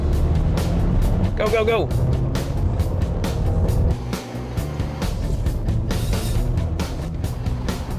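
A 2015 Subaru Legacy launches and races on a course, its engine droning loudly and steadily up close, with people shouting and talking over the engine noise.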